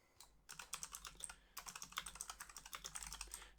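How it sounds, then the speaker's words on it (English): Rapid keystrokes on a computer keyboard while text is entered into a field, close and crisp, in two bursts separated by a short pause, with no talking. "when I'm typing something on the description field"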